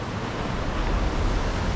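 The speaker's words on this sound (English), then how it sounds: "Waves are crashing up right now." Ocean waves crashing on a beach in southern France, a loud, continuous broadband roar of surf with wind buffeting close to the microphone.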